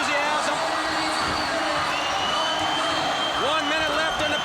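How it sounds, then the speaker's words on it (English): A 1989 WarGames wrestling crowd at the Great American Bash chants and screams in a dense, loud, continuous roar. Excited whoops rise through it, and a commentator talks over the noise. "This crowd chanting, screaming in enthusiasm."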